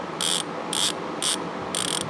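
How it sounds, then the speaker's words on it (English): A vintage Plumb 24-tooth ratchet gives four short bursts of rapid, bright metallic clicking, close and clear, separated by brief quiet gaps. "Man, that sounds really good. This is a 24 tooth ratchet."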